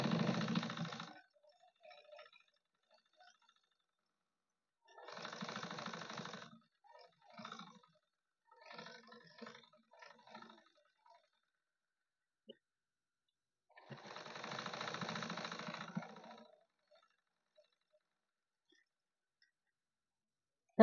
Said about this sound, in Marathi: आता मी इथून सनी अशी शिलाई करून घेते